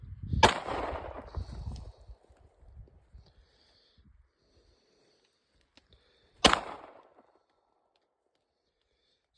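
Two sharp pistol shots from a Browning Hi Power crack out several seconds apart, each loud and close with a brief ringing tail, the first followed by faint rustling and handling noise.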